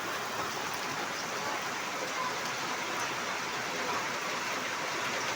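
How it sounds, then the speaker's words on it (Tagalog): A constant roar of heavy rainfall with local flooding, thick and unbroken, drumming nearby for the whole stretch. "Napakalakas ang ulan."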